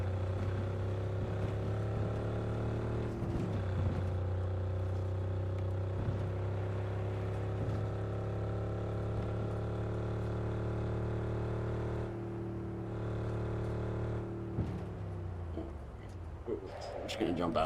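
A Cybertruck driven in a modded Cyberpunk 2077, its steady electric-style drive hum and tonal whine running continuously throughout, with a slight shift near the end.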